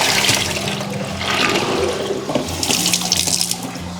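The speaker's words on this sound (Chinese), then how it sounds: "锅里我们倒入清水" Clear tap water runs steadily into a cooking pot, filling it for blanching razor clams, with a close, continuous splashing rush that shifts in tone as the pot fills.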